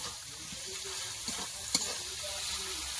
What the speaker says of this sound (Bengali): দিচ্ছে লবণ, কপিতে ভালো করে কষে নেবো